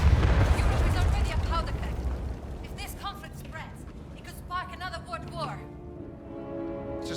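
Explosions in an action video game open as a deep, rumbling blast that rolls and fades, followed by quieter scattered pops and effects under a narrator's voice.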